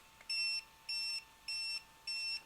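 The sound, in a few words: four beeps from ARRMA Typhon RC car controller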